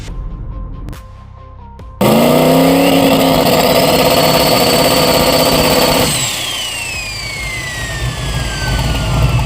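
Ford Mustang and other domestic drag cars at a Street Fighter class world finals event roar hard off the line, loud engines climbing in pitch through the gears over several seconds before easing into a steadier, distant drone.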